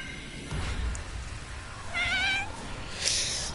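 A cat meows in the South Park video game, a few short, wavering cries over a steady hiss of game background noise, with a higher thin mew near the end.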